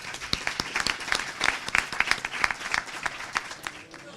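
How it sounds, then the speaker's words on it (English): An audience at a storytelling event applauds, with a dense burst of many hands clapping, loud and fairly close, that holds steady before thinning out toward the end. "But let's give her a round of applause anyway."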